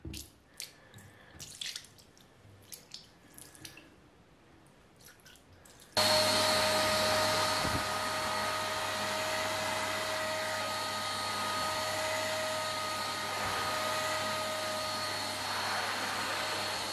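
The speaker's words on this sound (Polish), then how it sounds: "Odkurzacz bardzo dobrze ściągnął wodę" A Parkside PWD 12 A1 1200 W wet/dry vacuum cleaner switches on after quiet dripping water and keeps up a loud steady whine with gurgling as it sucks up water.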